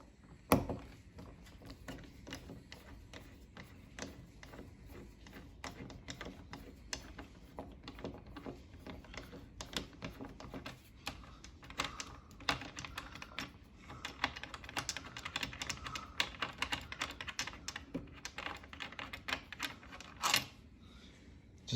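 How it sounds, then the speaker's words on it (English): Phillips screwdriver bit backing out the two bolts of a Schlage BE365 electronic deadbolt, a string of fairly quiet clicking, ticking mechanical taps and small clatters continuing steadily, with no talk. "with the Phillips bit, we're going to take out these two bolts"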